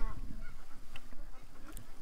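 Ducks being fed, a few loud nasal honks and quacks close by in a short burst, with scattered rustling and background noise between calls.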